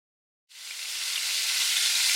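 Marinated chicken drops into a few tablespoons of hot oil in a frying pan, and after a half-second of silence a loud, close sizzle bursts in and holds steady, building slightly with no talking.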